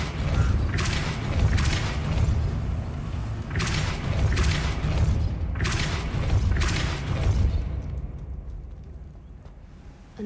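A pushing spell cast on an object in a Harry Potter video game, heavy creaking and grinding booms in several surges, loud and close, fading toward a quieter end.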